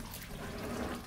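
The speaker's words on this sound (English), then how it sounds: "I'm going to use high pressure water, mm-hmm. and I'm going to put it in there and make sure there's no blockages." High-pressure water flushes through pipes in a car wash conveyor pit, a continuous hissing gush of spraying water, fairly faint and steady for the whole moment.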